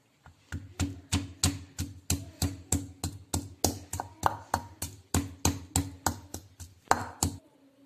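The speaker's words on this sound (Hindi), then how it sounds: "सबसे पहले हम लहसुन को पीस लेंगे" Garlic is pounded for potato tikki in a steady run of about two dozen sharp, evenly spaced thuds, close and clear, repeating roughly three times a second with no voices.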